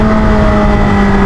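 A Yamaha R6 sport motorcycle running with no exhaust, a loud, steady raw engine drone close to the rider, with a strong buzzing tone held throughout.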